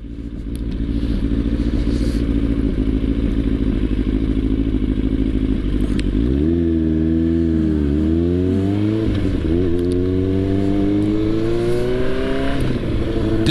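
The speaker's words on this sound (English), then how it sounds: "Little quad bike there." A quad bike engine drones loud and close, then its pitch rises and falls several times as the throttle changes, with a little clatter mixed into the steady roar.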